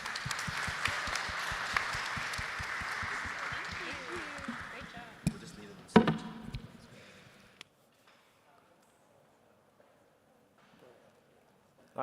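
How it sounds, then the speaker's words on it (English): Audience applause and cheering at a stage event fill the first half, dense clapping and crowd noise with voices mixed in, peaking with a loud thump before fading into near silence. "So round of applause to all of you"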